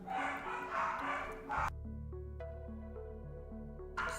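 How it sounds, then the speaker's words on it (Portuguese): Several dogs bark and yip in quick bursts at moderate distance, with a steady electrical hum and a tonal melody underneath during a pause in the barking. "Esse cachorrado aqui tá embaçado hoje."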